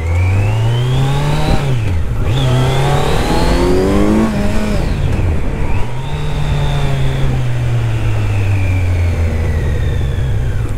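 A Kawasaki Z900 motorcycle engine revs up through rising gear pulls while riding in the city around Stuttgart, loud and close, with gear-change dips between climbs and a steady drone at the end.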